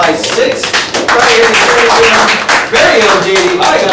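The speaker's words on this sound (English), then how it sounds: "Oh, I got a round of applause." Round of applause during a team meeting, a dense wash of many hands clapping that stays loud and steady for several seconds, with voices faintly mixed in.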